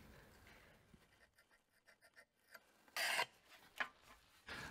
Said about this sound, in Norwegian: Lag et 1-2 mm dypt spor med rissenål eller lignende.